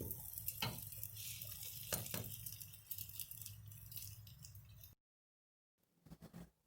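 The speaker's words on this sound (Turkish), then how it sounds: "Bazlamalarımızı arkalı önlü güzelce kızartalım." Potato-filled bazlama flatbread sizzles steadily in a hot pan, with a few sharp scraping clatters, then cuts to silence before a short burst of frying resumes.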